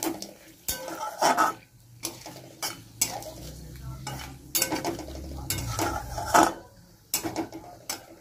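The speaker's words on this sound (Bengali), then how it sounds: "ফোড়নটা একটু নাড়বো।" Spice tempering with bay leaf being stirred in a pan for katla fish dopyaza, with repeated scraping strokes of a spoon against the metal and a soft low sizzle underneath, close and fairly quiet.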